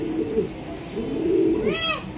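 A male black racer pigeon gives a close, low, rolling coo in two swells, ending in a brief higher rising-and-falling note.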